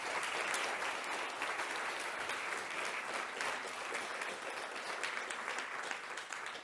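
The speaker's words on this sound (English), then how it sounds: "Please, warm round of applause." An audience at a talk claps in a warm round of applause: dense, even clapping from many hands, sustained for several seconds and easing slightly at the end.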